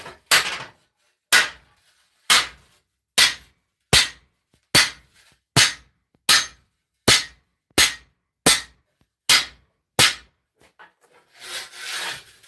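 A sword blade is hammered to forge its bevels with about a dozen sharp, evenly spaced blows, roughly one per second, close and loud, followed by a short scraping rustle.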